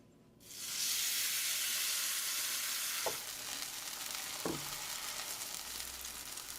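Beef birria tortilla getting a quick dip in hot oil, a loud steady sizzle and hiss that starts abruptly and keeps crackling, with a couple of brief clinks partway through.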